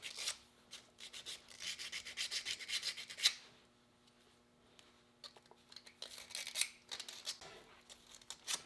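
Bursts of close, dry rasping and rubbing strokes of sandpaper on a Damascus steel knife blade, rhythmic at first, then a quiet pause before more scraping resumes, alone without speech.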